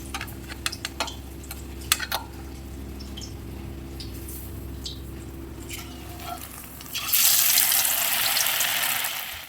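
Paneer pakoda pieces dropped into hot oil, with scattered clinks and handling noises at first, then a broad, steady hiss of frying rising near the end.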